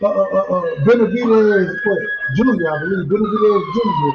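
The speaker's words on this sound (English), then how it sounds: "No, that's the ambulance." An ambulance siren wails with rising and falling tones under loud, continuous conversation from several people talking over each other.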